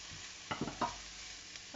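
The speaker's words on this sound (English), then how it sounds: "just leave that to fry off just for a minute" Seasoned vegetables with herbs, salt and pepper are stirred in a frying pan, giving faint sizzling under a few soft scraping and clinking stirs, close and quiet, with no talking.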